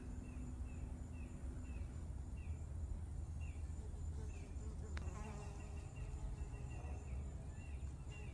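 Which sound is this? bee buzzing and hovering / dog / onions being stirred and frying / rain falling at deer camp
bee buzzing and hovering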